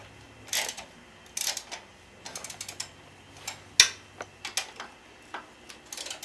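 A 17 mm socket on a ratchet wrench works the engine mount bolt of a BMW F650GS motorcycle, giving quiet irregular clicks and sharp metallic ticks in short bursts, close but low in level.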